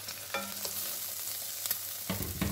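Linguiça sausage fries in a pan with garlic and chopped onion for feijão tropeiro. A soft, even sizzle runs throughout, broken by a few stirring scrapes and a sharper clatter near the end, with no voices.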